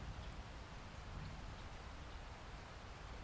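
Heavy rain pours down in a steady, dense hiss, a quiet, even wash of falling water with no breaks.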